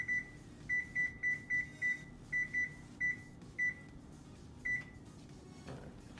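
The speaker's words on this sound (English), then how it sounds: "So the first thing we're going to do is preheat our oven to" A kitchen oven's control panel beeps about a dozen times in quick succession while being set to preheat to 425, each short tone clear and close, followed by a soft clunk near the end.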